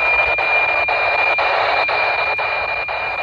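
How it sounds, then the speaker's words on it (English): Regular electronic beeps from a satellite transmitting an image, picked up on a cheap radio, pulse about twice a second over a steady hiss and a thin high tone, like a faint radio signal. "So that beeping sound, that's the satellite transmitting the image down."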